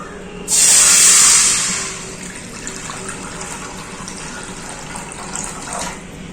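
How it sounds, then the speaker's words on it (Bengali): Water poured into a wok for cooking potatoes, a loud splashing gush that starts abruptly, lasts about a second and a half, then fades into a quieter simmering background. "কড়াইয়ে জল দিয়ে দেবো"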